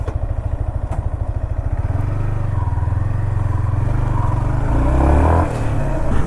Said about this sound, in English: Now let's go for a short ride on the Yamaha XSR 155.